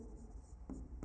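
Writing on a board during a biology lesson: a brief, soft, scratchy stroke with a couple of light taps, quiet and close.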